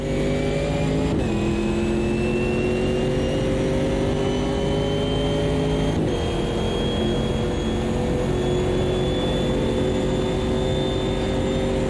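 Race car engines in the video game Automobilista 2 whine steadily at high revs and climb through the gears, with two sharp gear shifts, all loud and continuous with no speech.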